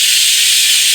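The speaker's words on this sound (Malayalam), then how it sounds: "ഫസ്റ്റ് വിസിൽ വന്നു, തീ കുറയ്ക്കുകയാണ്." A pressure cooker cooking vegetables releases its whistle as a loud, close, continuous hiss of escaping steam that holds steady for the full second.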